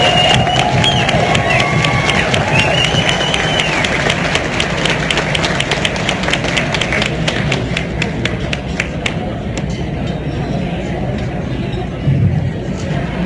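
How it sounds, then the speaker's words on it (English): A gala audience fills the room with loud, sustained applause and cheering, with dense clapping throughout and chatter mixed into the crowd noise. "Another round of applause."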